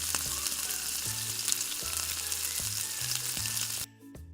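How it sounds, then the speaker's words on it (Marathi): Chopped onion frying in oil in a pan for a spicy black pea curry, a steady loud sizzle with faint stirring clinks that suddenly drops away near the end. "कांद्याला इथे आपल्याला गुलाबी रंगावर छान परतून घ्यायचं आहे."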